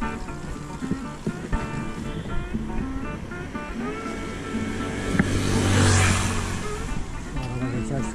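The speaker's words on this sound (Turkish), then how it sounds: "Araba geçer şuradan." A car passes along a lakeside road on a bicycle tour route, its engine and tire noise swelling to a peak before fading, with wind and outdoor rumble around it and voices talking.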